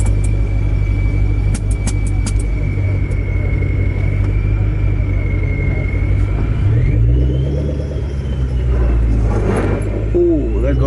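A supercharged Ford Mustang idles and cruises while held in first gear at about 2,000 RPM, its deep steady engine rumble with supercharger whine filling the cabin. Light shifts in drone come near the end.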